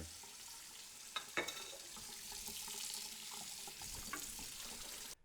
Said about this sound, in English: Make sure you rinse all that soap off of your cast iron.